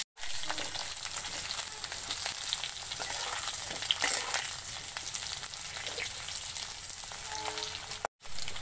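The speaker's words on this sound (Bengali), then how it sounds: "আলুটা একটু ভেজে নেব।" Potatoes sizzle and crackle steadily in hot oil in a pan, being fried for a Bengali raw-banana and fish curry. The dense frying hiss is close and even, with small pops, and stops briefly near the end.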